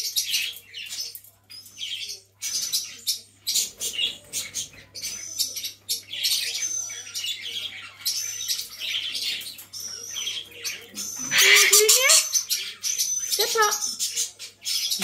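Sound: scaly-breasted lorikeet chirping and calling

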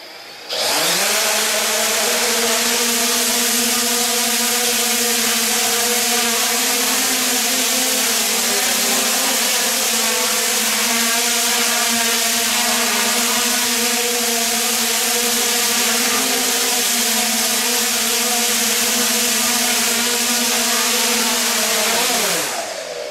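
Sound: 3DR Solo drone motors spinning Master Airscrew propellers at speed

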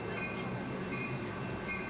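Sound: Cap Metro Red Line commuter train pulling into station

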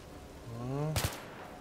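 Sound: gunfire in Battlefield 3 video game

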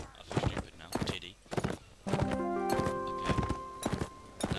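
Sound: horse hooves clip-clop in Mount and Blade video game

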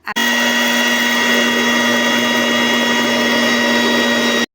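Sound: mixer grinder blending boiled horse gram for soup

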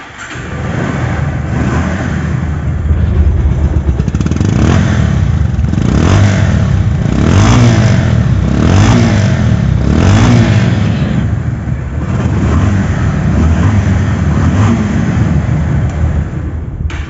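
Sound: motorcycle engine revving

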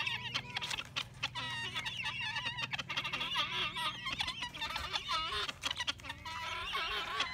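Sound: guinea fowl calling

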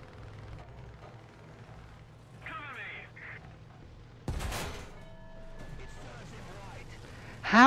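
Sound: gunfire at the player's tank in War Thunder (video game)

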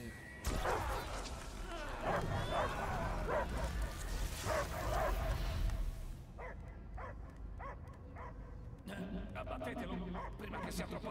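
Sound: dog barking in Marvel's Guardians of the Galaxy video game

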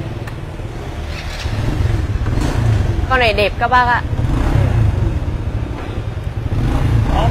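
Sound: motorbike engine running and revving

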